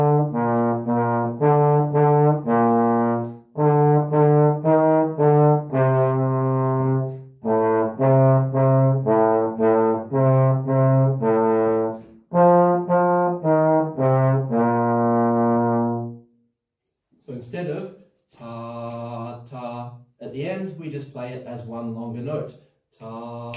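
A band of low brass and trumpets plays short phrases of held, tied notes in a steady rhythm, the repeated lines sounding close and full. A voice speaks briefly near the end.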